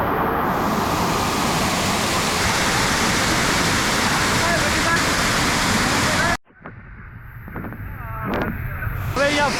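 A large waterfall in Kutch near Bhuj, swollen after heavy monsoon rain, roars loudly and continuously for about six seconds before the sound cuts away abruptly to quieter rushing water.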